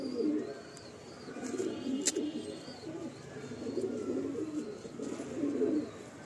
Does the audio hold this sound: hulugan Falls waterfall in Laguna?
no